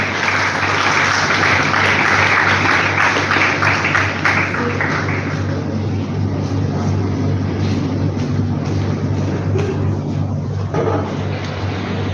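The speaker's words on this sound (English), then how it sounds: "A big round of applause for them." School audience applauding students at an event, a broad wash of clapping that swells early and then fades into a steady low hum and room noise.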